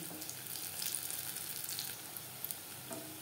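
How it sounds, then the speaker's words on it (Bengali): Cabbage and onion pakoras fry in hot oil in a kadai over a medium flame, giving a soft, steady close sizzle with a few light crackles, quiet and without talking. "পাকোড়া ভাজবো মিডিয়াম ফ্লেমে"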